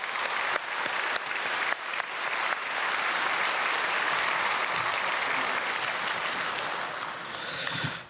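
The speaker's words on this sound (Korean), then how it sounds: "우리 크게 박수로 한번 축복하겠습니다" A church congregation at Sunday worship breaks into loud, sustained applause for its teachers, dense clapping filling the hall for about eight seconds before tapering at the end.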